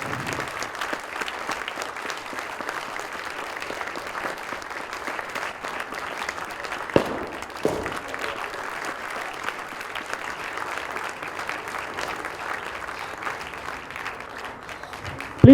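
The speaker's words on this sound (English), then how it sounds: "Can we clap?" An awards-ceremony audience claps steadily throughout, a dense, even wash of applause from a large crowd, fairly loud with no letup.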